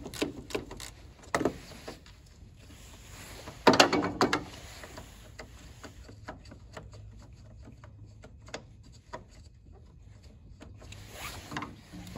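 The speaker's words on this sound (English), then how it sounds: "take the socket and grab it while I'm unscrewing the bolt once it gets to a point where the thing stops ratcheting" A socket wrench ratchets on a bolt during a radiator replacement on a Dodge Charger: quiet, sparse mechanical clicks and a few sharper metallic knocks near the start, with no talking.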